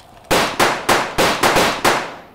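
Six sharp, loud firearm shots crack out in an uneven rapid series, each with a short decaying tail, in a lawless-town action film setting.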